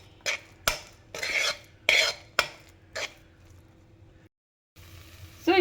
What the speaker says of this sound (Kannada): ಇದಕ್ಕೆ ಒಂದು ಸ್ವಲ್ಪ ಅರಿಶಿನ ಸೇರಿಸ್ಬಿಟ್ಟು ಮಿಕ್ಸ್ ಮಾಡ್ಕೊಳ್ಳಿ ಹೀಗೆ